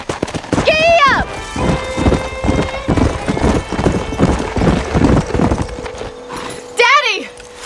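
Galloping horse hooves clip-clop steadily in a Red Dead Redemption game scene, close and rhythmic, with a horse whinnying at the start and end and a voice speaking over the hoofbeats.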